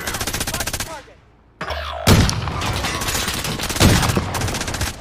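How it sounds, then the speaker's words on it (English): Video game gunfire rattles in rapid automatic bursts, loud and close. A brief lull follows, then dense overlapping shots and booming reports resume. "I'm getting shot at from every other place."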